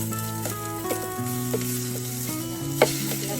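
Food fries and sizzles in a pan while a meal is cooked at a home in the province: a steady close hiss runs throughout beneath sustained, stepped tonal notes.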